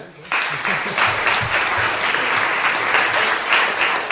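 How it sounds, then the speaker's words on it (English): A crowd bursts into steady applause that starts abruptly and holds at full strength, with a few voices faintly audible underneath. "let's have a round of applause for that"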